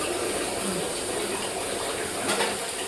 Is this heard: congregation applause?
no